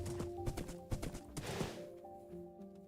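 Blocky Minecraft horse hooves clip-clopping in quick uneven steps, fairly close and moderately loud, then thinning out as the horse slows, with no talk over them.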